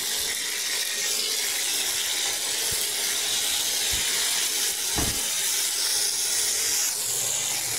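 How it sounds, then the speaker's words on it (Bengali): Chopped green chillies fry in hot oil in a kadai, a loud, steady hiss of sizzling with a few dull thuds from stirring. "এবার আর অল্প একটু তেল দিয়ে কাঁচা লঙ্কা কুচি দিয়ে দিলাম। কাঁচা লঙ্কাটা ভেজে নিলাম।"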